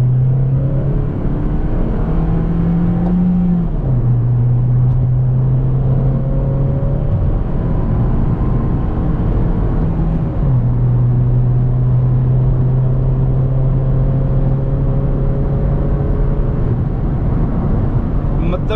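A Honda Civic's engine pulls hard along a smooth main road, heard from inside with a loud, steady drone that climbs in pitch through gear changes, continuous tyre and road roar beneath.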